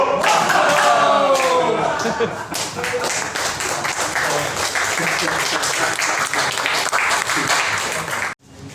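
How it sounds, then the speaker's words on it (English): A group of elderly people claps together in a steady, loud, continuous burst of applause that fills the room and stops abruptly near the end. "Because they clap."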